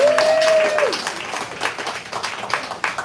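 An audience at a live poetry slam applauds and cheers a poet with steady, dense clapping that ebbs slightly over a few seconds. A brief whistle-like tone sounds at the start.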